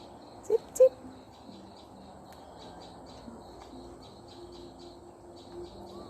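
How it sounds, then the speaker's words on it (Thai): Faint, repeated high chirps from small birds in the distance over a quiet, misty outdoor background with dew dripping, and a couple of brief nearby knocks. "เสียงนกร้องด้วย"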